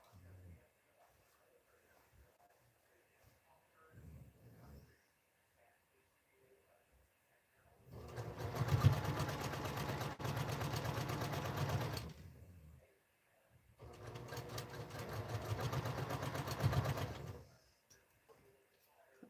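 A sewing machine back-stitches a scrap quilt in two loud bursts of steady whirring, each a few seconds long, separated by a brief pause, with faint handling noises before.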